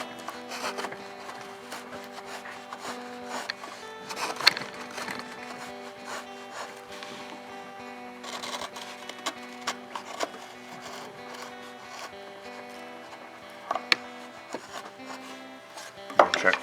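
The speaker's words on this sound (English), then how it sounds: "you can also use a bench knife like this, and we can just go and take the high side off with the knife" A bench knife pares the high side off a hand-cut wooden arch, giving close, faint scraping and shaving strokes with occasional sharp clicks and taps, set against a quiet room.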